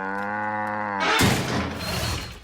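A cartoon cow in the French animated series Les Dalton lets out one long, loud, droning moo that breaks off into a burst of noisy clatter and rustle.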